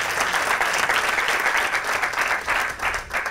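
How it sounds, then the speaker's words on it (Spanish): Audience applause at a live talk event, a dense, steady wash of clapping hands lasting the whole stretch, loud and close with slight swells and no speech over it. "un aplauso para ellos dos"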